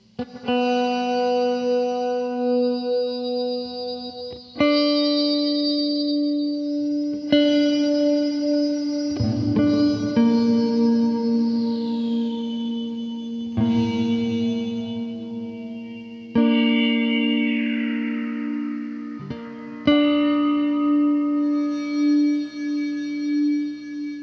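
Death By Audio guitar effects pedal producing a bit-crushed, distorted tone, with sustained buzzy chords broken into sections by sharp attacks and swooping pitch glides, loud and close with no talking.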